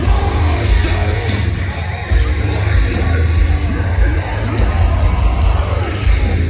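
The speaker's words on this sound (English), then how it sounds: "We got a clip of the crowd." Crowd at the RockFest 2023 rock concert, a dense wash of yelling and cheering voices over booming low-end music, loud and continuous throughout.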